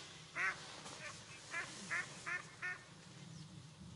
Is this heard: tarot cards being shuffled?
no